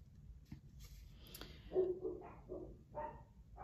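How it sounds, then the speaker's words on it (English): Several dogs bark in short bursts close by, a few yips and barks spaced over a few seconds against a low background hum. "my goodness, these dogs."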